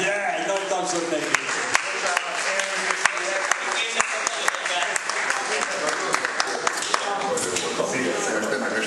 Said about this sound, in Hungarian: Norbert! Jaj, nagy tapsot neki!